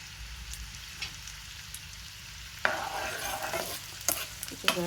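Green chilies and curry leaves frying in olive oil, a steady close sizzle with brighter bursts of crackling as they are stirred in the pan.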